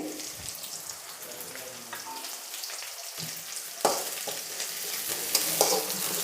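Curry leaves crackle and spit in hot oil in a pan for masala upma, a steady close sizzle with scattered pops that grows denser and louder toward the end, with no one talking.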